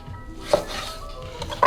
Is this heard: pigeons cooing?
no